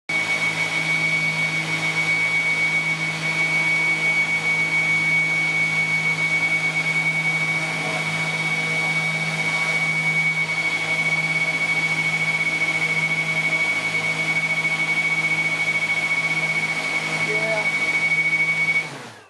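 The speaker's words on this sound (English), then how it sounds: "This is going to be a test with having the two motors run off one battery." Two small electric RC model plane motors for a Martin Mariner build run together off a single battery, giving a steady, loud, high-pitched whine that holds unchanged for about nineteen seconds before cutting off at the end.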